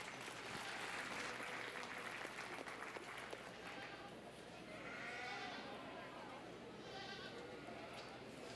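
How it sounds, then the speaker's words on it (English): Applause from the audience at a youth goat show at the Gillespie County Youth Livestock Show: loud clapping at first, then fading to a lighter patter, with goats bleating and people talking nearby. "Let's give her a round of applause."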